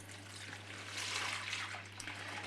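Potato juice for kugelis is poured off carefully into another bowl, a faint, soft trickle of liquid over a low steady hum in a quiet kitchen.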